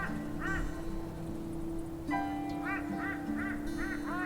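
Goose-like birds honk repeatedly in the video game Shardlight, sharp nasal calls in short bursts over a steady low ambient drone.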